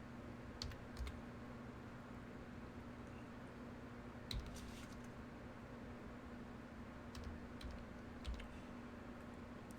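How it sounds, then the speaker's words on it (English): A code is typed on a computer keyboard in scattered, faint clicks and small bursts over steady fan-like background noise. "Typing in the code right now as we speak."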